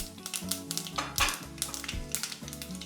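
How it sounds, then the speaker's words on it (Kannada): Mustard seeds and cumin sizzle and crackle in hot oil in a pan, a steady frying hiss with rapid pops and faint clinks of a spoon against the pot, fairly close, with no voices. "ಅರ್ಧ ಟೀ ಸ್ಪೂನು ಸಾಸಿವೆ ಹಾಕೊಳ್ತಾ ಇದ್ದಾನೆ ಅರ್ಧ ಟೀ ಸ್ಪೂನು ಜೀರಿಗೆ ಹಾಕೊಳ್ತಾ ಇದ್ದಾನೆ"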